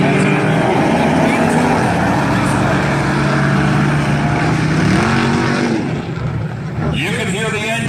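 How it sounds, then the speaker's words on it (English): Dirt track race cars roar loudly with engines revving and surging as they run close together on an oval, while an announcer talks over the noise. "You can hear the engines revving."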